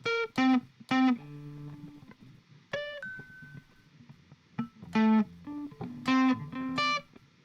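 An electric guitar run through effects plays a five-finger tapping arpeggio over the neck: quick clusters of ringing tapped notes separated by brief pauses, some notes sustaining, clean and close with no voice.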